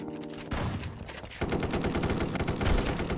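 Sniper rifle gunfire in a competitive online shooter, a burst of sharp shots ringing out close and loud in quick succession, with no talking over it.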